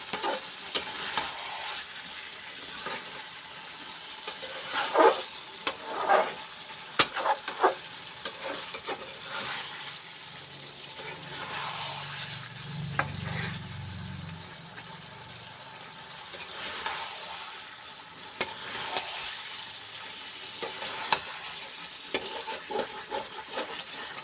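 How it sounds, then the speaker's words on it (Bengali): Mutton browning in a pan gives off a low, continuous sizzle while a spoon scrapes and stirs at irregular intervals, sometimes louder, then easing off, fairly close with no talking. "খাসির মাংসটা না একটু ভালো করে না কষালে ঠিক ভালো লাগে না, তাই আমি একটু ভালো করে কষিয়ে নিচ্ছি"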